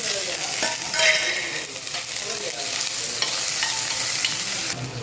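Onions being stirred and fried in a pan for a tapioca tempering dish, with steady close sizzling and scraping stir strokes throughout, no talk.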